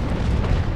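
Naval cannon fire during a large fleet battle in the video game Naval Action: a loud, dense, rumbling boom that fills the whole moment without any break.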